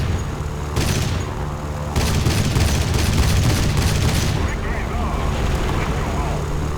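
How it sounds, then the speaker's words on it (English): Yak-9K cannon fire in War Thunder Realistic Battle, heavy booming bursts starting near one second and rolling on for about three seconds against continuous engine drone, with someone talking over the gunfire. "I'm not afraid to use my cannons now"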